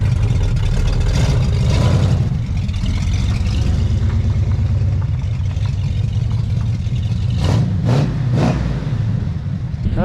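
A 1971 Chevelle V8, started after sitting about twenty years, runs in gear with a loud, steady, throaty rumble, close up, with a few brief sharp noises toward the end.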